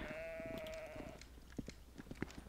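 A sheep in a video game lets out one sustained, wavering bleat lasting about a second, followed by scattered soft clicks and taps against a quiet background hum.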